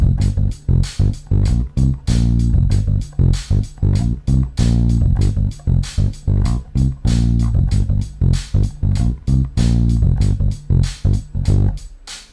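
Bass guitar plays a chorus riff over a steady metronome pulse, with loud, evenly spaced plucked notes in a repeating rhythm throughout and no talking.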